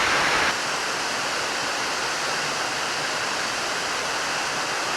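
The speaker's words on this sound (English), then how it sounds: "I might go jump in the waterfall," A waterfall roars as a constant, dense rush of white noise, steady and fairly loud throughout with no pauses and no voices.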